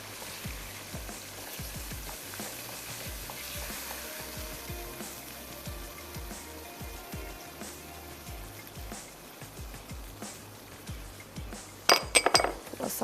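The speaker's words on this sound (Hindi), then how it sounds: "थोड़ा सा मिक्स कर लेते हैं।" Tikka biryani masala is stirred and mixed in a pot, with a spoon scraping and clinking in a steady repeated rhythm over a soft sizzle, ending in a few louder metallic clinks near the end.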